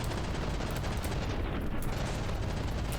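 Rapid, dense cram cannon fire and impacts in a From the Depths battleship battle, a continuous rumbling barrage with booming low end, heard alone without talk.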